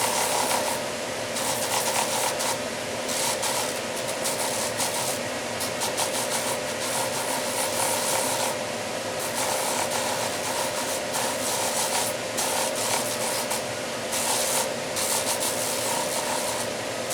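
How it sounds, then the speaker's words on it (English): Fine power sander smoothing out deep scratches left by a coarser sander on shaped wooden intarsia pieces, a steady close buzzing grind with rubbing texture that runs continuously, with brief dips as the tool shifts. "we use our fine sander to take out all the big scratches that the big sander left"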